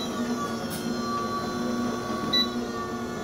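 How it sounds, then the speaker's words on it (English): A 10-quart AE-10DCA tabletop commercial mixer runs with its motor at speed while mixing, giving a steady mechanical hum with a faint whine that holds evenly throughout. "You can increase the motor speed as the machine is mixing."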